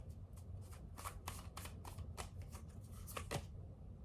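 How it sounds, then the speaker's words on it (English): Tarot cards being shuffled and pulled, a run of quick papery riffles and snaps at close range, steady over several seconds, with no talking. "Let's pull 3 cards to get a little bit of energy here."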